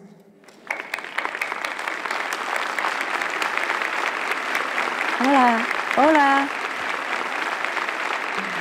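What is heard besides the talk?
audience applause welcoming guest of honor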